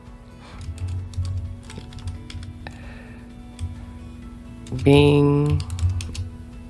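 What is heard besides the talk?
typing on a computer keyboard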